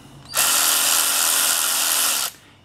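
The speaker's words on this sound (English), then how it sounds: "90-degree electric ratchet. Came in a kit with a bunch of sockets." A 20-volt cordless 90-degree electric ratchet from a socket kit, used on oil pan bolts of a 1989 Jeep, whirs steadily at high speed for about two seconds, close and loud, then stops.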